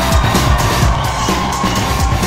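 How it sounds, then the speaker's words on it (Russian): A school graduation dance battle crowd roars with loud, dense cheering and clapping, a continuous wall of whoops and applause close by. "А теперь аплодисменты команде профессионалов"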